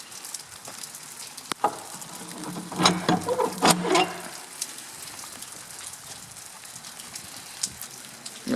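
Steady rain falls outside a house in France, a soft continuous patter with a few louder drips and knocks nearby, quiet and without talk.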